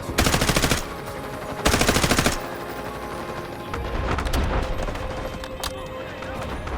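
Loud automatic gunfire from a Delta Force match, with two sustained bursts of rapid shots close up, followed by quieter background battle noise and scattered distant shots.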